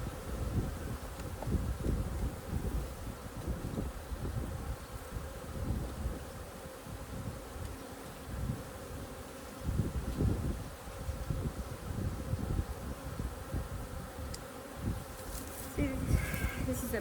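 Honeybees hum and buzz densely and continuously around an open hive with black plastic frames, a close, low drone that swells and fades as bees pass near.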